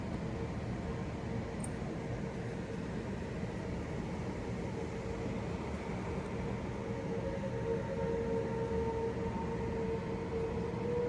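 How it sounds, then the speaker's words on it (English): Tornado warning sirens sound steadily across DuPage County, Illinois, a faint sustained wail held beneath heavy wind and broadband rumble throughout, with no speech. "So yes, our sirens are going off now."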